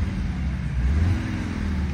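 Cupra Formentor VZ engine accelerating in comfort mode, a subdued low rumble that builds slightly in the middle then holds steady, fairly quiet and continuous.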